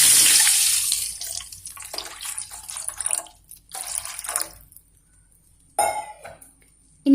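Water running and splashing into a pan while making upma, a loud continuous pour at first that tapers into softer trickles, a few short splashes and drips, with a brief renewed burst near the end.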